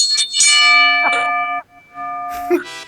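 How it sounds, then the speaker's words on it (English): A bell rings with sustained, ringing chime tones. One strike decays for about a second, then a second strike follows after a short gap, with no talking over it. "Stop that fucking bell."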